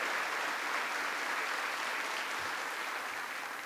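Sustained applause from a large crowd greeting a congressman at a Veterans Day gathering in South Korea, a steady wash of clapping that holds evenly throughout without pause.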